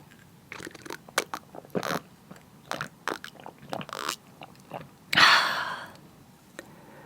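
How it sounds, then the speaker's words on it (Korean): Eating jjamppong noodles with beef brisket and soft tofu, close-up mukbang sounds of irregular chewing, soft bites and wet slurps. A louder slurping burst comes near the end, and no one talks. "오늘은 차돌박이랑 순두부 넣은 진짬뽕 먹어볼게요"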